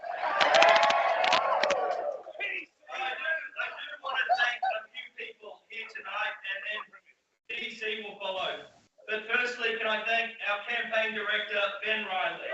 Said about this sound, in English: You can tell it's a large crowd there.